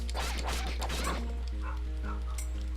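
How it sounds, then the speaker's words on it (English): A dog barks in a quick run of sharp yips and woofs during the first second, then fainter whimpering tones follow over a constant low indoor hum. "Barking."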